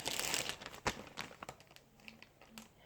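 Plastic bags crinkle and rustle near the mic while a live frog is unpacked from a pet shop, with a burst of dense crackling at first, then scattered crunches and softer handling noises.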